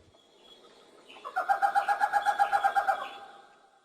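A Flores scops owl calling in the jungle, a rapid run of about a dozen evenly spaced, mellow hooting notes swelling and fading over a couple of seconds, fairly close and alone against a quiet background.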